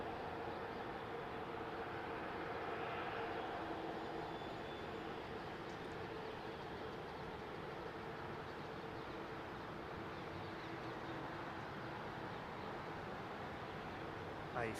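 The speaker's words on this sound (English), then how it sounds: "A350-1000." An Airbus A350-1000 departs runway 27R at London Heathrow, its steady, broad jet roar holding at a moderate level throughout as the airliner rolls and climbs some distance away, with no voices.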